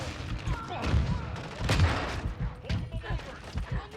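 Shotgun blasts go off in a fast first-person shooter match on the small Shipment map, repeated booming reports and scattered gunfire bursting at irregular intervals amid busy game noise.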